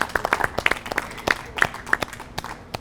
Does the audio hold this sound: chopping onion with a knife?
no